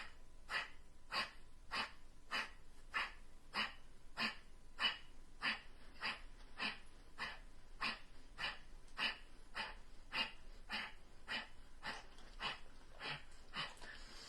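Rapid, forceful pranayama breathing, about twenty sharp rhythmic nasal breaths, each a short, even burst repeated steadily at close range, with no talking.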